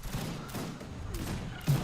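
Ranged infantry gunfire from an Age of Empires 3 Wars of Liberty battle with grenadiers, line infantry and camels: a dense, steady crackle of massed volleys, with a heavier thump near the end.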